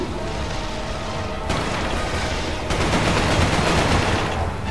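Continuous rapid gunfire from a weapon in the PS3 shooter Resistance: Fall of Man, loud and dense, with bursts intensifying partway through.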